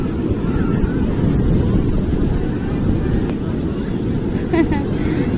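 Sea waves at Puri beach, a loud continuous low rumble of surf with strong wind buffeting the microphone, and faint voices in the background.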